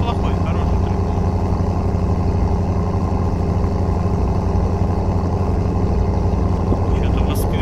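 A tractor engine running in the BeamNG video game, a loud, steady, continuous drone that stays level throughout without letting up.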